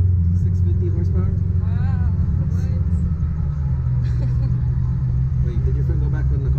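Engine of a 650-horsepower car heard from inside during a ride, a steady low rumble that dips slightly midway, with people chatting over it.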